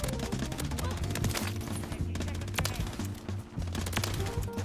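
Rapid bursts of video game gunfire, with dense automatic shots from BP50 and RAM-9 weapons during jump shots, loud and continuous with brief gaps over background game music.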